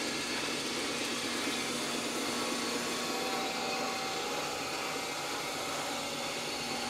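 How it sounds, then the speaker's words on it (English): Coolant pump on a Royal Master TG-12-4 centerless grinder running, a steady, even whirring hiss with a faint tonal whine, held at constant level throughout with no talking. "Coolant pump works fine, sounds good"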